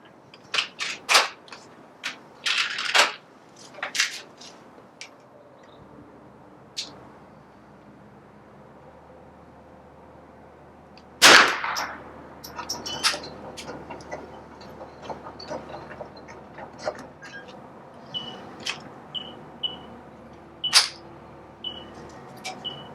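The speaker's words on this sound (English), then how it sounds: "So let's go ahead and take 10 shots." Marlin Model 60 rifle fired at a range: a series of sharp, fairly quiet cracks with uneven gaps, some shots closer together, plus small clicks and handling noises between them.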